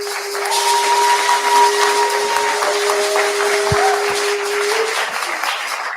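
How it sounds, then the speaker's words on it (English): An audience at a birthday tribute event breaks into steady applause, a broad wash of clapping heard up close alongside a faint sustained tone. "I want y'all to give a round of applause for Soki Brown."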